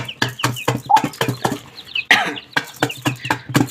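A khaki hen clucks repeatedly in a steady run of short, close, loud clucks, her domestic chicken calls filling the space with no talk over them.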